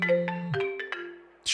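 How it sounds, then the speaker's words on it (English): A phone ringtone from an unknown number in the video game Rue Valley plays as a short melody of clear tones, ending with a brief burst of noise. "your ears are pierced by a ringtone"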